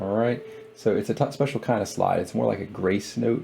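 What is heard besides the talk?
No everyday noises stand out.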